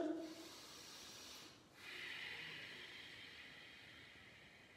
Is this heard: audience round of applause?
no